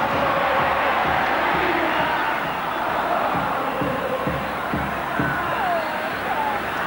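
Football stadium crowd at an Argentina versus West Germany friendly in 1987: a broad, constant roar of massed spectators with rising swells, under a commentator speaking over it.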